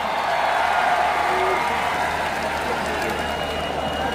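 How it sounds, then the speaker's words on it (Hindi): A rally crowd applauds and cheers for AIMIM's Asaduddin Owaisi in Dhule, Maharashtra: a dense, steady wash of clapping that stays loud and even throughout the short stretch. "जोरदार तालियों में इस्तकबाल करें"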